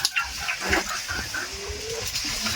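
Chinese ducks on a farm quack and call in short, overlapping bursts, fairly near and moderately quiet, with a continuous murmur of other birds behind.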